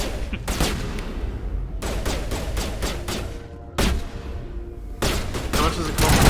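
Gunfire in Mass Effect Legendary Edition comes in loud, close bursts of rapid shots separated by short pauses, with heavy impacts and a voice speaking faintly underneath.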